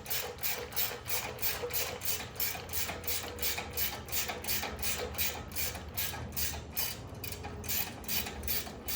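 Impact wrench loosening a bolt on a polished aluminum tie rod from an Apex Chassis 2.5 ton steering kit, a fast even hammering chatter that continues steadily and close throughout with no speech.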